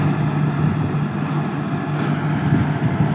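Rice combine harvester running in a flooded paddy field with water nearly swamping its tracks, a steady loud engine drone with a constant low hum and no voices.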